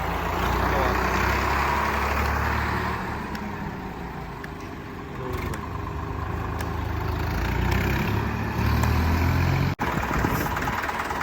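A tractor engine idles close by, a low, steady rumble continuing throughout with a brief dip near the end; a voice talks over it.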